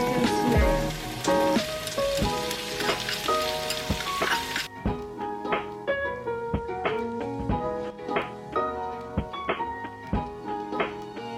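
Garlic and onions fry in a hot pan, a loud, dense sizzle with stirring clatter that drops to a steadier, quieter crackle partway through.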